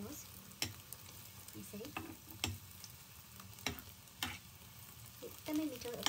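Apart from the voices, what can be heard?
bread frying in ghee until brown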